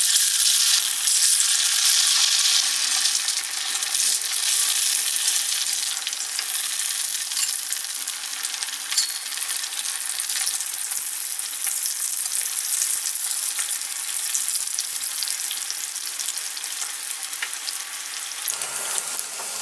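Pinwheel samosas frying in hot oil, a steady, close, even sizzle that holds at a constant level throughout, easing slightly near the end.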